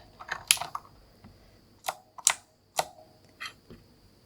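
Keycaps being pressed back onto a Razer keyboard, heard as a handful of crisp, close plastic clicks and snaps spaced irregularly over a quiet background.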